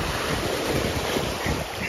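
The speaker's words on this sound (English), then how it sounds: "Here comes a big wave." Ocean waves break on a sandy beach at Egmont Key near Fort De Soto Park, Florida, a loud continuous wash of surf mixed with heavy wind buffeting on the microphone, no talk.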